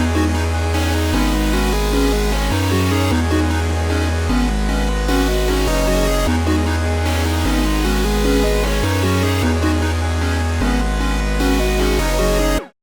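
A melodic trap-style beat loop, with layered synth melodies over booming bass notes that repeat in a steady bar pattern, loud and continuous with no voices.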